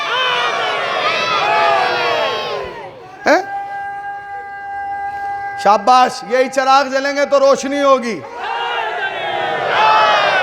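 Young children in a Muharram majlis crowd chant religious slogans loudly in unison, in bursts at the start and the end, with someone speaking into a microphone between the chants.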